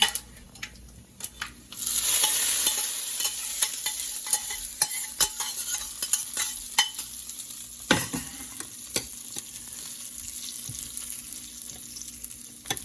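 Spices temper in hot oil for coconut chutney, crackling and spluttering with a close, steady sizzle dotted by sharp pops and the occasional clink of a stirring spoon.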